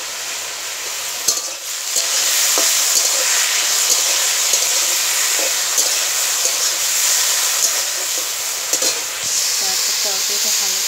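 Potatoes with onion and chili frying in mustard oil in a pan, a continuous close sizzle and hiss broken by occasional stirring scrapes and clatters.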